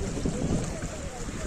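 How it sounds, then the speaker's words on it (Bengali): A boat moves over the sea at Baga Beach in Goa, with steady rushing water and wind buffeting the microphone close up, and no clear break in the noise. "এই বোটটায় উঠছি"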